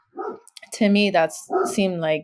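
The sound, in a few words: dogs barking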